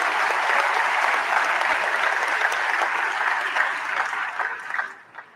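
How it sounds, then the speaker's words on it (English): A large audience applauds the election commission members and staff at the South African election results announcement, sustained dense clapping that stays loud and even before tapering off in the last second. "let's give all the members of the Commission and the staff a round of"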